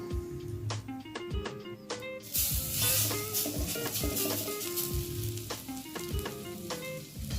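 Khesari dal fritters frying in hot oil, a loud, busy crackling sizzle with frequent pops and utensil clinks, close up and continuous, with no one talking.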